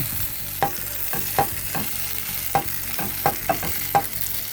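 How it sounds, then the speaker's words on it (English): Pan-fried tacos sizzle in a pan with a steady hiss, broken by sharp, irregular pops and scrapes. "now we're just going to let the taco cook like that for a minute"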